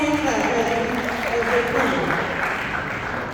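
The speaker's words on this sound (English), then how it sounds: "Let's give them all a hand clap" Audience applause at a blockchain summit panel, a steady wash of hand clapping with cheering voices mixed in, held at an even level for the whole stretch.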